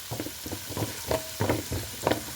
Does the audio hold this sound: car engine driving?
no